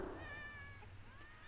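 Cats in the video game Thirty Flights of Loving give soft, high meows, two or three drawn-out wavering calls that sound faint and a little distant over a low background hum.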